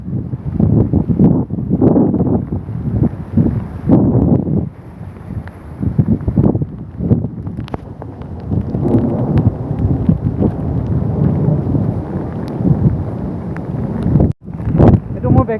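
Strong wind roars and gusts in rainy Cherrapunji, a steady loud rush with buffeting bursts against the microphone, blowing continuously with a brief drop near the end.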